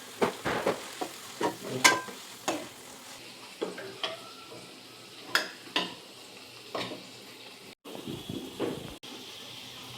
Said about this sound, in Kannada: ಕೊತ್ತಂಬರಿ ಸೊಪ್ಪು ಪುದೀನ ಸೊಪ್ಪುದ ಕಟ್ ಮಂತಿತ್ತಿನೆಲ್ಲ ಪಾರ್ದು ಐನ್ ಒಂಚೂರು ಸ್ಲೈಟ್ಲಿ ಫ್ರೈ ಮಂತೊಂದುಲ್ಲೆ